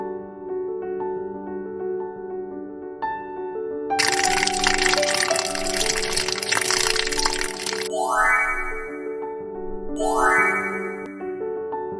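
In an animated story, water is poured onto a dry tree: a burst of splashing, gushing liquid rises over soft tonal background music, followed by sparkling rising chimes.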